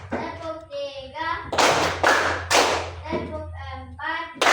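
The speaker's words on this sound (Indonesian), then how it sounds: "Tepuk semangat" A classroom rhythmic clapping game, with children's voices chanting in between bursts of sharp, loud group claps, several separate rounds of clapping alternating with the chant.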